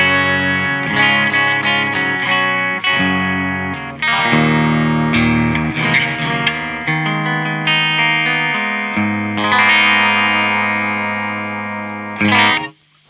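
An electric guitar plays a clean, dry tone with no reverb, picking a sequence of sustained notes and chords with no talking.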